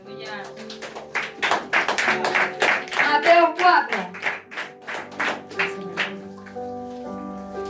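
A church congregation claps along during a Spanish-language worship service, with steady rhythmic hand claps filling the hall under a preacher's speech and nearby voices.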